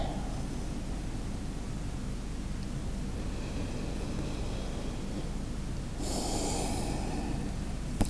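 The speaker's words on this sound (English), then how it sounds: "full breath in, full breath out" A deep yoga breath during a seated calf and hamstring stretch: a long hushed airflow under steady background hiss, then a fuller, louder breathy rush near the end.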